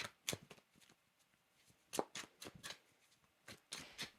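Tarot and oracle cards being shuffled and drawn, a quiet close series of soft riffling flicks and slaps in quick irregular bursts.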